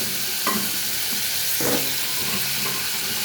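Vegetables, aubergine and potato among them, sizzle in hot fried spice paste for a koi fish curry, a continuous close crackling hiss with a few louder bursts as they are stirred, and no voices.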